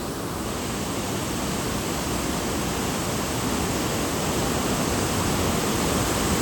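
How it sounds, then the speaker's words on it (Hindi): Swollen Gaula river and large waterfalls bursting from the hillsides during monsoon rain, a loud continuous roar of rushing water, steady and unbroken throughout without any voices. "बड़े बड़े झरने ना पहाड़ों से फूट पड़े हैं।"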